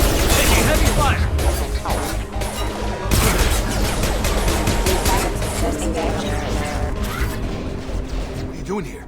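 Heavy gunfire in the video game Mass Effect 2, with dense bursts of shots, crashes and impacts at full volume and speech mixed in throughout.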